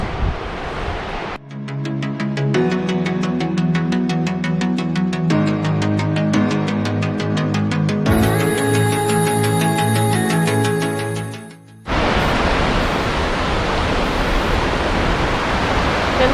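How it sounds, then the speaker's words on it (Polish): Steady roar of a black waterfall among basalt columns in Iceland's Vatnajökull park, loud and close. It is heard alone at the start and again at the end, with music filling the long middle stretch. "pora na czarny wodospad"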